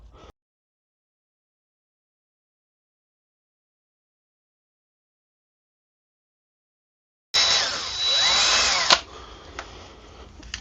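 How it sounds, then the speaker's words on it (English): Long silence, then a power drill whirs loudly for a couple of seconds before dropping to a quieter, uneven buzz near the end. "So I need to drill a hole over here."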